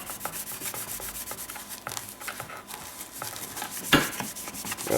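Scrubbing a Kawasaki KLT 200C part by hand with 409 cleaner and a polishing Scotch-Brite pad, a steady close abrasive rubbing that continues evenly, with one sharper scuff near the end.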